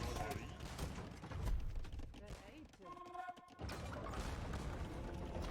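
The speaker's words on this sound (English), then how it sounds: "Good shots from the bombards on the hand cannon too." A volley of booming bombard and hand cannon shots and crashes bursts repeatedly amid game sounds, with people talking over the chaos.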